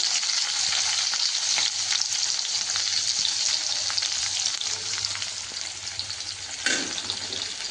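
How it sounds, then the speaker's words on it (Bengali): Onion fries in a kadai with cardamom, cloves and cinnamon: a continuous loud, close sizzle of hot oil with scattered crackles and occasional stirring scrapes. "পেঁয়াজটা দিয়ে লাল লাল করে ভেজে নিতে হবে"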